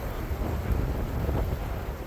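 High wind buffets a homestead, with rough, rumbling gusts battering the microphone in a loud, continuous roar.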